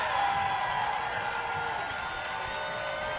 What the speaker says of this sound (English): Galax fans across the way standing and applauding